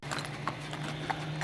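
A horse with colic walks across a parking lot, its hooves clip-clopping in a steady, fairly close rhythm, with a faint hum in the background.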